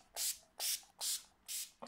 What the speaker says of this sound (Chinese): 喷一点定妆喷雾